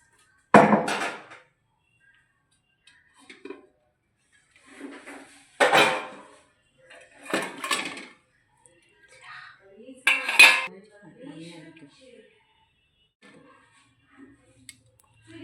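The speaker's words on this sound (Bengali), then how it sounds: "20 মিনিট হয়ে গেছে, এবারে আমরা ঢাকাটা সরিয়ে দেখে নেব।" A lid lifted off a pot of caramel pudding after steaming, followed by scattered clinks and clatters of pots and utensils, a few sharp separate knocks with quiet gaps between them.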